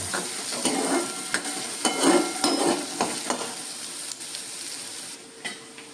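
Finely chopped onion fries in a pan toward golden brown, a close, steady sizzle with irregular spatula stirs and scrapes, no voices.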